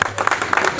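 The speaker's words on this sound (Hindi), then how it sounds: "और जोरदार ताली" A short, lively patter of audience applause at a book release event at Mandi House, New Delhi, with dense clapping rising and falling over less than a second.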